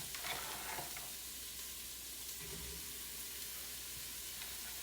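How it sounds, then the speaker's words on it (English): Onion, celery, carrots and garlic sauté in a pot with a steady low sizzle, punctuated by a few scraping strokes of a utensil across the pot bottom. "we are gonna just throw in that whole onion, the celery, the carrots, the garlic, and then we're gonna scrape the bottom"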